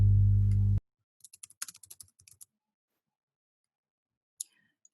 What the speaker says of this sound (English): We are currently frantically typing our contact information in the chat again.